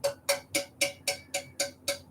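Eight evenly spaced metallic taps ring out in a steady rhythm, each a bright, thin clank with a short, tinny decay, close and alone.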